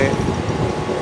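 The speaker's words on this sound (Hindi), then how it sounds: "हार्बर लाइन का ही रेलवे स्टेशन है गोवंडी" A train at Govandi station on the Mumbai harbour rail line gives a steady, close rumbling roar with no pause, loud and continuous.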